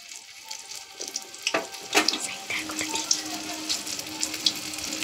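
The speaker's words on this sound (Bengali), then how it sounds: "আমি দুটো করে ভাজছি।" Food frying in a pan, two pieces at a time, with a steady close sizzle and scattered clinks and scrapes of a spatula, while faint water sounds run underneath.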